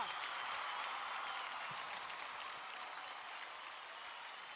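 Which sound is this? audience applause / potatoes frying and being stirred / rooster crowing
audience applause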